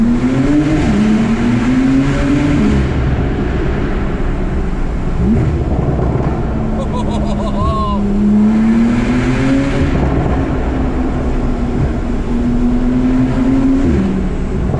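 TECHART-tuned Porsche Turbo S cruising through a tunnel, engine droning loud and steady with rising and falling pitch as it shifts through gears, reverberating off the tunnel walls throughout.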